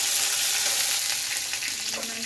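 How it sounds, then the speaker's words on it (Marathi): Garlic sizzles in hot oil with green and red chillies, a dense, even frying hiss that stays close and steady for a couple of seconds with no talking. "आणि मग त्याच्यात आपण हा लसूण टाकायचा"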